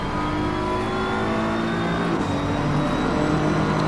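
A race car screams steadily at high revs around the Nurburgring in Assetto Corsa Competizione, its loud engine drone holding and rising slightly through the gears with no pauses, and no voice over it.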